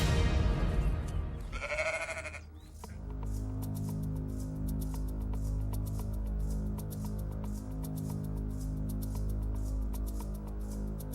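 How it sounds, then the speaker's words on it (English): A bighorn sheep in rocky wild terrain gives one short, nasal bleat, followed by a steady low hum and a string of faint clicks and ticks. "The bighorn sheep."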